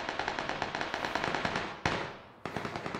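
A shootout in Battlegrounds brings rapid, evenly spaced bursts of automatic gunfire, punctuated by two sharper, louder single shots that ring out briefly, heard at moderate distance.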